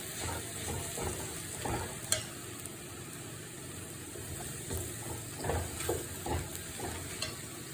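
Coriander, turmeric and garam masala powders are stirred in a pan for pepper beef, giving soft sizzling with scattered scraping clicks of the spoon, fairly quiet and close.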